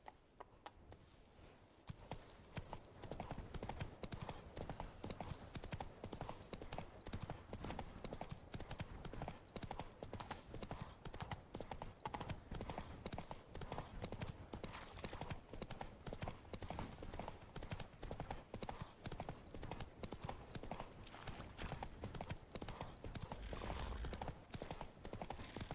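Horse hooves trot in a Monster Hunter game, a brisk, even clip-clop beat that carries on for about twenty-five seconds at a moderate level after a quiet start.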